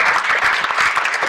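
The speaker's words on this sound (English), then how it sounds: "Can I get a round of applause for their hard work?" An audience at a state assembly candidate forum claps enthusiastically, a dense burst of applause.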